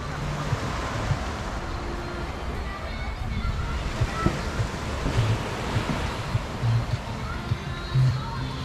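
Surf washing against a hotel pier and beach at Tekirova, Turkey, a continuous broad wash of breaking waves mixed with wind buffeting the microphone, steady and moderately loud.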